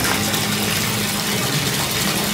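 Water gushing steadily into a hotel bathtub for a bath bomb soak, a loud, continuous rushing splash heard close up without any voices.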